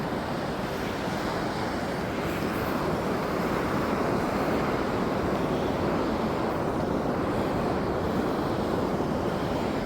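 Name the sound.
choppy sea waves on the beach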